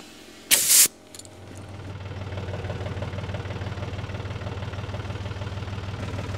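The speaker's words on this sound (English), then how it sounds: "I just take the air hose with no attachment on there" A short, loud hiss of compressed air from an open air hose with no attachment, blasting to seat the bead of an old dry-rotted tire, then a steady mechanical running hum continues afterward.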